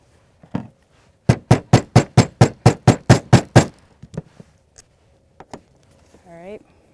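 A snap button being set with a hammer on a small anvil: a quick run of about eleven sharp, evenly spaced metallic strikes, close and loud, with a few scattered taps and brief voice sounds around them.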